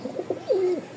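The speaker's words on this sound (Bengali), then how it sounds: "কবুতরের ডাক দেখলেই মন ভরে যায় ভাই" Domestic pigeon from a breeding pair cooing close by, a few short soft notes followed by a longer drawn-out coo, heard alone and clear.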